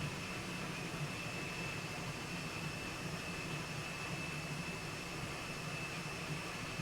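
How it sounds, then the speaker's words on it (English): A grain mill runs during a home brewday, a steady, even, whooshing drone with a faint high whine on top, constant throughout and heard from some distance at low level, with no voices. "Some point today he might stop that mill."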